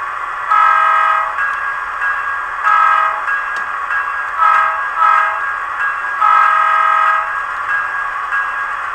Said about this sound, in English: So that's the tsunami sound decoder I have in it.